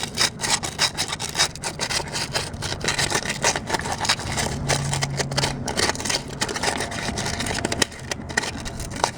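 Sandpaper rubbing by hand on the cast-iron engine block of a 1968 Pontiac Firebird 400 cubic-inch V8, a steady, close, gritty scraping that runs continuously with short uneven strokes and no talking.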